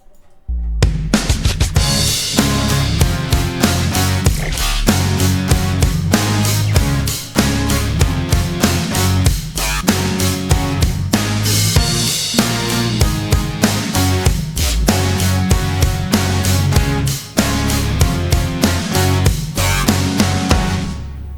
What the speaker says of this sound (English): I did these dubstep bass hits